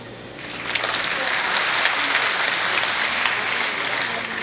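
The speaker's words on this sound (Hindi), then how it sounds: "आपने थोड़ी एडवांस में तालियाँ बजा दी है" A comedy-show audience breaks into loud, dense clapping that swells in within the first second and holds steady, a full room applauding close to the microphone.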